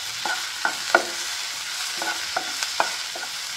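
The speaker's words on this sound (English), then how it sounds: "Once the onion is sweat, add garlic and saute for a few minutes." Garlic and onion sautéing in a pan for squid chilli fry, a steady soft sizzle broken by several sharp spatula scrapes and taps at uneven intervals, close and without voices.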